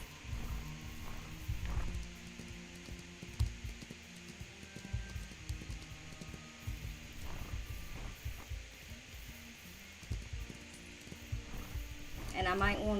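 Wild horses in the video game Ranch of Rivershine, with steady clip-clop hooves and occasional snorts or whinnies, moderately close, running continuously under game ambience and background chatter.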